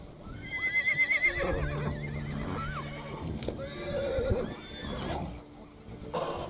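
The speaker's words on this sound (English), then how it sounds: "Here you can see scenes of mares rearing up against each other with the foals caught in between" Several horses at an Icelandic blood farm whinny and neigh loudly in overlapping calls as mares rear against each other, with scuffling hooves and commotion around them.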